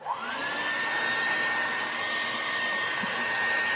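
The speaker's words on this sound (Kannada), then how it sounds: "ಮೇಕಪ್ ಮುಂಚೆ ಏರ್ ಡ್ರೈಯರ್ ಯೂಸ್ ಮಾಡ್ಬೇಕಾ?" A hand-held hair dryer blows steadily at close range before makeup, a continuous loud whooshing hum with a whining tone, alone without talk.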